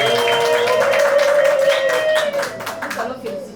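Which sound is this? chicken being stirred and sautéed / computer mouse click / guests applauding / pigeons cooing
guests applauding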